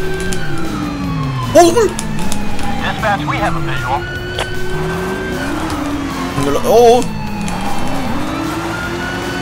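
A fast 1000-horsepower V8 sports car engine in GTA V whines and shifts pitch continuously, siren-like, while excited voices talk and shout over it.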